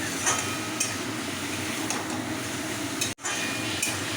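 Prawn stalks and vegetables frying in a pan, stirred steadily. A continuous sizzling hiss runs throughout, with light clinks of a utensil against the pan.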